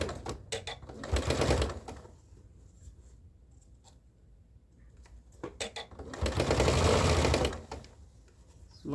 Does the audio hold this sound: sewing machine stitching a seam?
yes